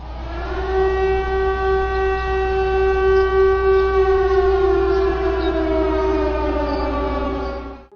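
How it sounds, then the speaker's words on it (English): A loud, sustained civil-defense-style siren wails steadily out on a backpacking trail, its tone holding and then slowly sliding down before it cuts off at the end. "considering the blaring sirens"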